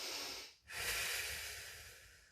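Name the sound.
deep breathing during pilates knee plank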